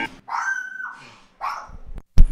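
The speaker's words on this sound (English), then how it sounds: "this is the grumpiest dog in the world. She gets really mad every time the front door opens to the building" A grumpy dog indoors barks and yelps in short angry bursts at the opening front door of an apartment building, loud and close, with brief pauses between outbursts.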